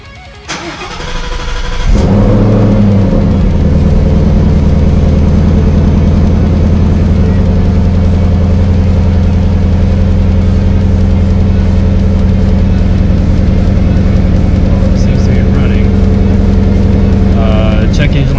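A Ford Mustang GT350-intake V8 engine, without its tune installed, cranks briefly, then fires and settles into a loud, steady, rumbling idle that continues throughout.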